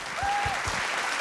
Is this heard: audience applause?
yes